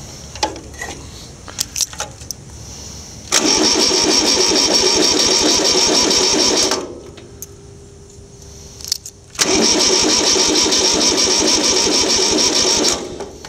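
A lawn mower engine cranks with a few clicks, then roars loudly for several seconds, drops to quiet, and starts again into a steady, loud run.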